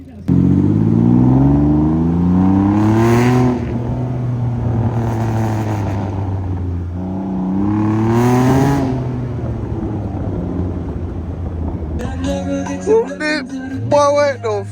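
A motorbike engine at a night car meet revs up loud and close several times, each rev climbing and falling, with a steady idle between and people talking and shouting near the end.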